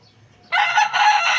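A rooster crows loudly and close, one strident call bursting in after a brief quiet moment.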